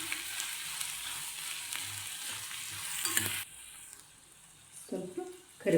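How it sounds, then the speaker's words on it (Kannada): Thickly crushed garlic goes into a hot pan of browned onions and sizzles steadily, followed by a quieter stretch and then the clink and scrape of stirring. "ಇವಾಗ ಬೆಳ್ಳುಳ್ಳಿ ಹಾಕ್ತಾಯಿದ್ದೀನಿ."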